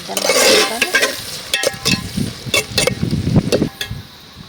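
Loud, close frying of tomatoes and onions in a pan for murrel fish curry, with vigorous scraping stir strokes and clattering over a constant sizzle.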